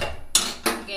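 A gas stove in a village home kitchen is switched on with two sharp clicks of the igniter, close and crisp with a short gap between them.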